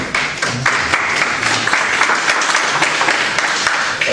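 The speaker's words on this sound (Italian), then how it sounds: "Ci mancava l'applauso" Audience applause at a workshop in Capannori, a loud wash of many hands clapping with scattered sharper claps standing out, sustained evenly throughout.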